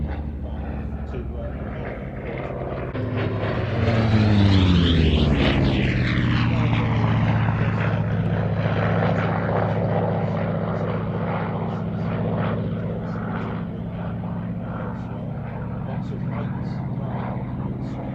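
A propeller aircraft at the Shuttleworth air show roars past, the engine drone rising and sweeping in pitch as it nears and then fading steadily, with a commentator talking over the public address throughout.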